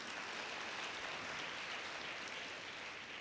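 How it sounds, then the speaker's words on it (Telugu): A church congregation at a farewell service for a former bishop gives sustained, dense applause, many hands clapping evenly across the large space with no speech. "చప్పట్లు కొట్టండి ఇప్పటికి."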